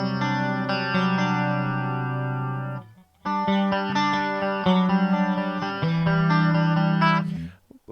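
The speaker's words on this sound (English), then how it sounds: "Let's turn the chorus on." Clean electric guitar through a Tone Master Pro with chorus switched on, a country clean preset: ringing chords played alone, with a short pause near three seconds before strumming resumes.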